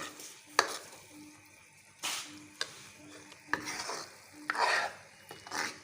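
Boiled green chickpeas and keema are stirred and fried in a pan, with a quiet sizzle under repeated scraping spoon strokes that come in uneven bursts about every second.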